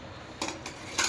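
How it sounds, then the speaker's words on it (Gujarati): Dishes and pots being scrubbed and handled in a home kitchen, heard as three short, sharp metallic clatters spaced apart over a low, quiet background. "હવે તો ફટાફટ હે ને વાસણ ઘસ"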